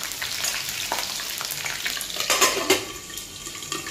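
Green chillies frying in a hot kadai for chicken gravy: a steady close sizzle with crackling spits and a louder burst of popping partway through, with no talking.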